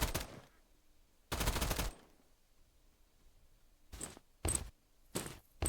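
Gunfire in an Escape From Duckov firefight comes as separated bursts: a short one, a longer automatic volley, then three or four quick, sharp shots spaced apart, loud against a quiet background.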